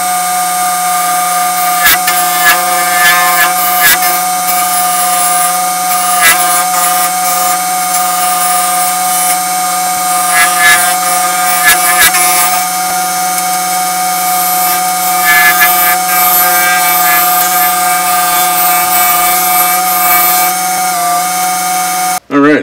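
A metal lathe turns brass stock for a hammer handle, giving a steady, loud tonal hum with a constant pitch and occasional clicks and scraping from the cutting tool.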